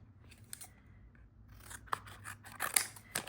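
Scissors trimming a paper card for a sketchbook, several close crisp snips and cuts in an irregular rhythm in a quiet room.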